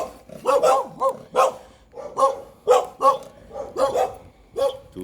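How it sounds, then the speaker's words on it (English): Two dogs on a street on the north side of Belize City bark in a steady run of sharp, fairly close barks, roughly one or two per second, with no talking over them. "Two dogs."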